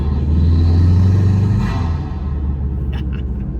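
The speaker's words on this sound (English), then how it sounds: "600 horsepower Subaru powered Suzuki Swift." A 600-horsepower Subaru-powered Suzuki Swift with a stainless snorkel idles nearby, a loud, deep burbling rumble that swells briefly then settles lower, with a few faint higher clicks near the end.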